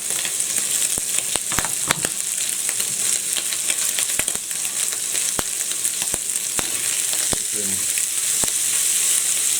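Ham frying in a pan beside sausages for an omelette, giving a loud, constant sizzle with sharp pops and spits scattered throughout, no talking over it.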